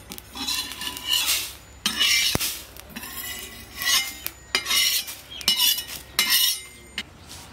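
Fennel and fenugreek seeds being stirred in a pan with the stove switched off, with a spoon scraping and clinking against the metal in uneven bursts, close and fairly loud, with no talking.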